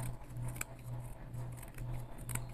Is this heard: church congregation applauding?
no